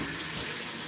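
Tap water running into a tin being rinsed out in a home kitchen during canning, a steady close hiss of flowing water lasting under a second.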